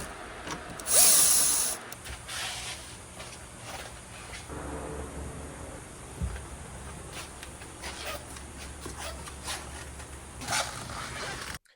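A power tool whirs in short bursts while the seats are removed from a Porsche 993, with one loud high burst early on, then clunks, rattles and softer mechanical handling close by, and no talking.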